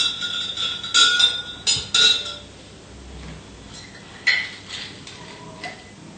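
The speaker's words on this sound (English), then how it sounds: "just going to leave that for a second as I just rinse the glass" A bartender rinsing a cocktail glass behind a tiki lounge bar, with a few bright glassy clinks and clatters of barware, then a quieter stretch of faint handling sounds.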